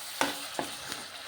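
A ground paste of onion, coriander, cumin and fenugreek fries in hot oil for a home-style fish curry, giving a close, steady sizzling hiss broken by three sharp stirring scrapes at roughly even intervals, with no voices.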